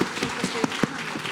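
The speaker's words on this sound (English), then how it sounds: "them a big round of applause" An audience at a children's school annual day function applauds briefly, a short burst of scattered clapping with a few sharper claps standing out.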